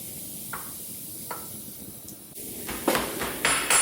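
Silicone lubricant sprays in hissing bursts into the main cap seal of a 1967 Shelby GT500 engine being rebuilt. After a quiet start with two faint ticks, the close bursts of spray grow louder and rougher toward the end.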